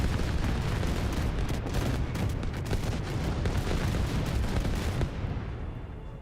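Fireworks in the video game The Division, a rapid barrage of crackling bursts and booms packed closely together, loud and continuous before cutting off and tailing away near the end.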